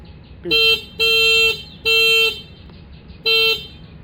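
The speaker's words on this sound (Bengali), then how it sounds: "sorry horn" The electric horn on a red Shadow Partner3 easy bike sounds four short, loud, tonal beeps in an uneven rhythm, close by.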